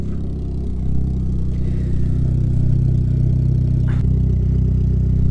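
An Opel Astra with a Z20LET turbo engine, remapped and fitted with a 76mm exhaust, idles after a cold start with a steady, close, low rumble and a faint clatter throughout.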